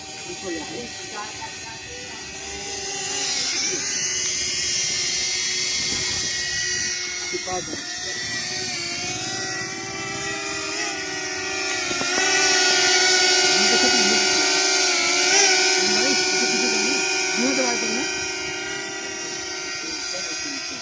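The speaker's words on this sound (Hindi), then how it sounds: "अब ऑपरेटर ड्रोन के ऊपर ले जा, नीचे ले जाओ" DJI camera drone flying outdoors, its propellers giving a thin high buzz that rises and falls as it climbs and descends, heard under people talking throughout.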